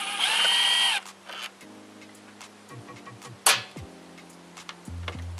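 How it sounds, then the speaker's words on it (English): A wrench loosens 10 mm bolts on the throttle body of a BMW E38 740i with an M62TU engine. Quiet metallic clicks and ticks arrive in short irregular groups, with one sharper snap midway. "First I'm gonna loosen these 10 mil bolts."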